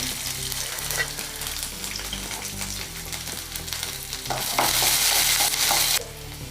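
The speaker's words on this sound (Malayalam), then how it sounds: "ആദ്യം തന്നെ എണ്ണ ഒഴിച്ച് നമുക്ക് ഇഞ്ചി അടുപ്പത്തിടാം അതിൻ്റെ കൂടെ തന്നെ വെളുത്തുള്ളി ഇടാം" Ginger and garlic fry in hot oil in a pan while making green mango pickle, giving a loud continuous sizzle with stirring scrapes that intensifies briefly toward the end; no voices.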